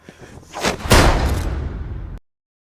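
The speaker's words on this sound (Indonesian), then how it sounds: "Jun menjadikan dirinya tameng bagi Woo Geom sehingga dialah yang terkena tembakan" A sharp gunshot-like blast in a Korean drama scene, one loud close crack with a reverberant tail that decays for over a second before cutting to silence, no voices.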